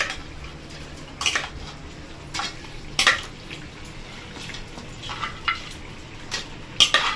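Mutton from a fatty goat, boiled with turmeric and salt, is stir-fried in a pot, with a soft frying hiss under intermittent metallic clanks and scrapes of a spoon against the pot.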